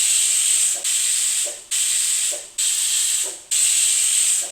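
A pressure cooker cooking Kottayam-style beef bone curry releases steam in five sharp, loud hissing bursts at a steady rhythm, each cut off briefly before the next.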